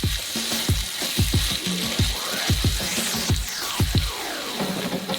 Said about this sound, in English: We send this into our wok. And now we add the egg noodles and mix it for the last time.